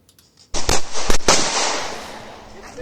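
Pistol shots at a USPSA practical shooting match ring out as a quick string of sharp, loud cracks, closely spaced, followed by a long, echoing outdoor decay.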